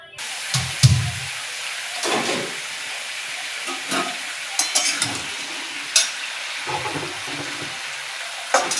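Potatoes fry in hot oil in a kadai for aloo dum, giving a continuous sizzle broken by repeated scraping, clattering stirs of the spatula against the pan, all close and without talk.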